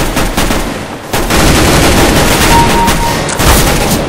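Rapid, loud machine-gun fire from a 100-round gun in the video game CS:GO, a dense continuous volley with a brief break around the first second before the firing resumes and carries on steadily to the end, with no talking.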